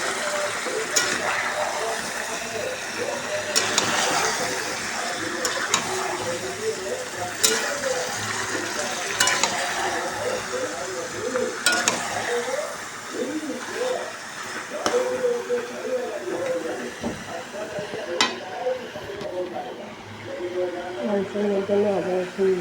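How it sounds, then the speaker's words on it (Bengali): Meat fries in a karahi, sizzling and frying steadily as it is stirred, with scraping movements throughout and a voice speaking over the cooking. "মাংসটা একটু ভেজে নেবো"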